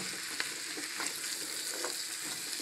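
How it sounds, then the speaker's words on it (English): Butternut squash sautéing in olive oil gives a steady, close sizzle and crackle, with a few soft clicks from stirring scattered through it and no voices. "Get this caramelized, a little sauteed."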